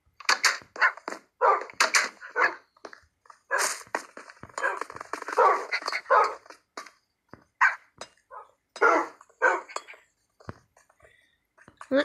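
Tamed wolves in Minecraft barking in short, sharp bursts over twelve seconds, scattered irregularly, some overlapping, under and between stretches of a person talking.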